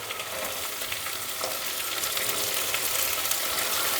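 Onions and garlic fry steadily in a pan for a carrot and pea curry, a close, continuous crackling sizzle that holds at an even level throughout, with no voices.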